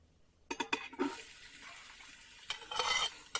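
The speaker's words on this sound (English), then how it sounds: "Oh yeah, it's sizzling." Onions going into a hot pressure cooker, a soft crackling sizzle with stirring scrapes and clatter, fairly quiet and close, with bursts of louder frying noise and no talk.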